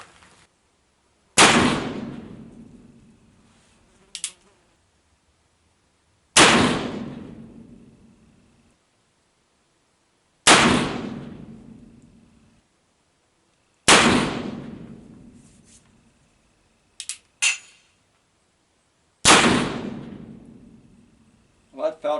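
Black powder gunshots fired while testing wads and lube for barrel fouling: five loud, sharp reports spaced a few seconds apart, each ringing off in a long decay, with a few smaller metallic clicks between them.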